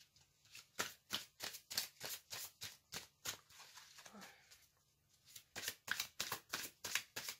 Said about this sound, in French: Je vais tirer 2 autres cartes d'oracle de l'amour universel.